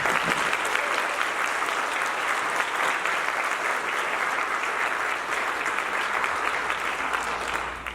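Sustained, dense applause from a large audience at a high school band concert fills the space steadily and loudly, with no voices rising above it until it fades at the very end.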